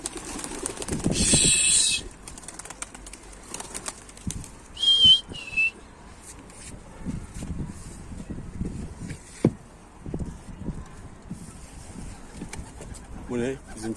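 Wild birds calling outdoors, with a brief clear whistled call and cooing-type sounds amid rustling, movement noise and occasional talk nearby.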